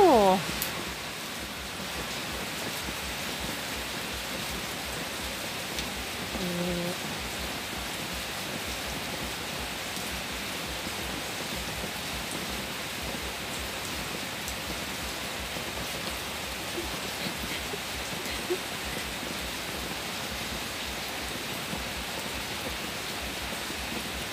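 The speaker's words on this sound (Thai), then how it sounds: "เอาบรรยากาศฝนตกเนาะ บรรยากาศฝนตกจ้า" Heavy rain falls steadily outside a house, producing a dense, even hiss of water on surfaces that lasts the whole time. A faint voice is barely audible underneath.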